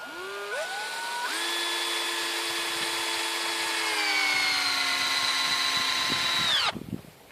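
A cordless power drill drives a long wood screw, about three inches, into the wooden frame of a herb bed, a loud steady whine that rises in pitch and then slows as the screw seats, ending abruptly.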